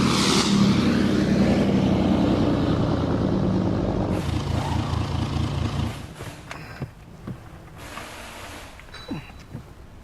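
A lifted 2014-or-later Ram 2500 with a 6.5-inch radius arm suspension lift kit rumbles and accelerates on a test drive, loud engine drone for several seconds before fading into quieter rattles and cabin noise.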